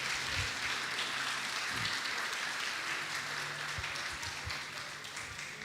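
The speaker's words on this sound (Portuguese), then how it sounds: "Vamos aplaudir ao Senhor pela vida dos nossos visitantes?" Church congregation applauding, a steady wash of many hands clapping at moderate volume, fading slightly toward the end, with faint voices beneath.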